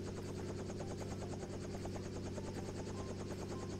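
A tour helicopter's rotor makes a steady, rapid chopping thump over a constant turbine whine, close and sustained with no voices.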